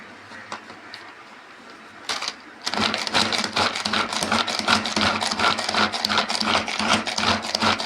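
Diced capsicum is chopped in an electric food chopper, heard as a quiet start with a few taps before the motor kicks in at about three seconds for a loud, dense, rattling whir that runs to the end.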